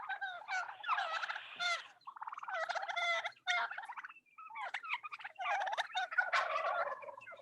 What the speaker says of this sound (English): So very classic gobbly turkey sounding.